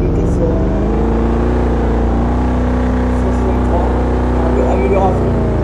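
Mustang car engine in a Roblox video game, a loud continuous drone with a faint rise in pitch, running throughout with a voice talking over it.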